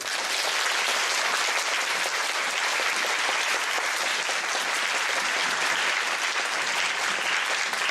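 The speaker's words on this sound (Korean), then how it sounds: "큰 박수로 부탁드리겠습니다." Sustained applause from the audience at a post-performance talk event for the musical 'Vanishing', a dense, even wash of many hands clapping that holds steady throughout.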